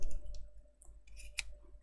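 Scissors trim the loose thread ends of a handmade tassel with a few quiet, close snips and clicks spread out at an uneven pace, one sharper cut standing out.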